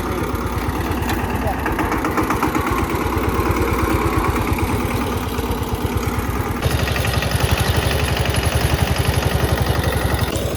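An Eicher 188 18 HP tractor engine idles close by with a steady, rapid diesel chug that gets slightly louder partway through and keeps up unbroken.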